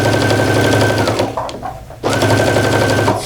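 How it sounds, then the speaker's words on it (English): A sewing machine stitches binding onto a quilt in steady, loud continuous runs, pausing briefly midway before starting up again. "And I'm going to continue sewing all the way down."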